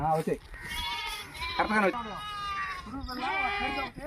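Several sheep and lambs bleat close by while grazing, overlapping wavering calls that continue throughout, with people talking in the background.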